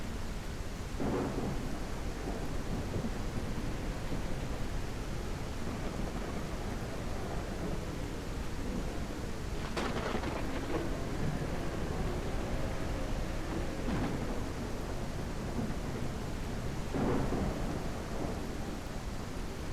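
Video game thunderstorm with lightning strikes at sea near a Kraken: continuous heavy rain hiss with several sharp thunder cracks and rumbles spaced through the clip, loud and close.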